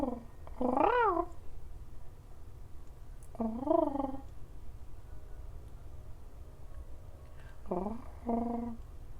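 Ralph, a pet bird, gives three short warbling, purr-like calls close by, spaced a few seconds apart over a low steady room rumble, with no talking.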